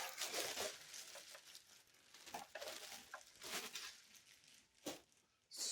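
Packing tape peeled off a laminator box, a few close, sharp ripping and crinkling bursts with quieter rustling between them.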